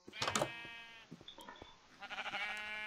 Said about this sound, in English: There seems to be a lot of sheep at the top of this mountain here